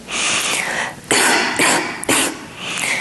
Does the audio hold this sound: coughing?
yes